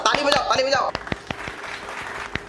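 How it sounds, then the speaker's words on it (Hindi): After someone speaks briefly, a string of sharp, separate hand claps follows, spaced evenly and close, fading slightly toward the end. "ताली बजाओ, ताली बजाओ।"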